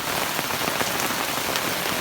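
Heavy rain falls outdoors in a dense, loud, unbroken hiss of drops striking surfaces nearby.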